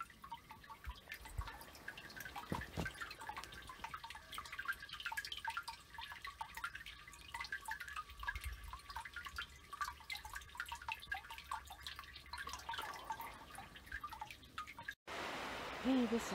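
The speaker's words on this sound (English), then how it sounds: "Check out the sound of this water." Water drips steadily outdoors in the snow, a faint, quick patter of small drops close to the microphone over a quiet background, ending in a brief louder rustle.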